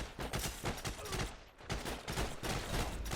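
Heroes & Generals gunfire: rapid, dense bursts of shots in quick succession with a short lull midway, then sustained firing again.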